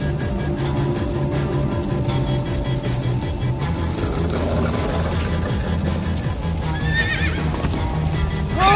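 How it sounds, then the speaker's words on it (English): A horse in Minecraft: Story Mode neighs over rhythmic hoofbeats, a steady galloping clip-clop running throughout, with a sharp whinny near the end; no talking. "Slow down, horse!"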